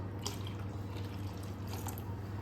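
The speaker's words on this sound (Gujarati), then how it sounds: "હવે પાણી એડ કરીશું." Water trickles and splashes softly as it is poured into a bowl of khandvi batter, faint and close, over a low steady hum.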